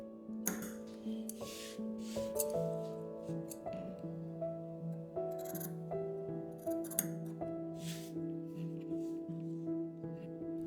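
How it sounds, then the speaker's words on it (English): Scissors snip through fabric along a diagonal line for a drawstring pouch, giving repeated crisp cuts close up over a steady background hum. "cut along the diagonal line and repeat the step on all sides."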